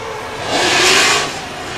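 A BMW E36 drift car at a British Drift Championship qualifying run at Teesside screams past, its engine revving loudly as it swells and fades over under two seconds.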